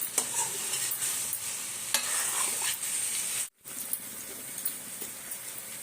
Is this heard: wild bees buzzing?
no